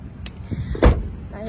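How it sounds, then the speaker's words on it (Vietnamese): A solid Chevrolet Cruze door thuds shut once, close and fairly loud, with a faint mechanical click just before and background chatter around it. "tiếng đóng cửa em Hương đóng rất là chắc chắn luôn"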